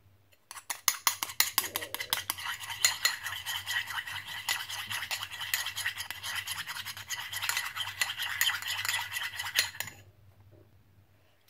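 Egg yolk for pâté chaud is beaten by hand with a fork or whisk against a bowl, fast steady clicking and scraping close up for about ten seconds, then it stops.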